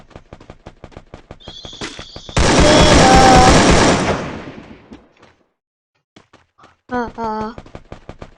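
Gunfire rings out in the shooting game Free Fire as a run of regular, rapid shots around a loud, sustained burst, with a brief voice near the end.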